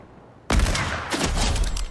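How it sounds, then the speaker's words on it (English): A single hunting rifle shot in a sniper video game, cracking in sharply and leaving a long, loud rumbling tail that swells again briefly. "That was a hunting rifle."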